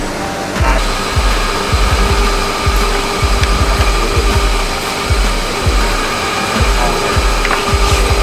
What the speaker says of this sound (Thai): อันนี้เราจะ มาเจาะที่รูนี้นะครับ